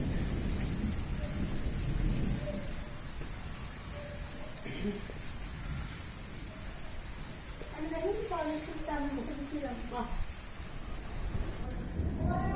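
A heavy thunderstorm pours steady rain in Punjab, with a constant dense hiss and low rumbles of thunder rolling underneath, while people talk over it.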